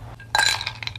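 Ice cubes clink against a glass in one short, bright cluster of taps after a moment of near silence, fairly quiet and close.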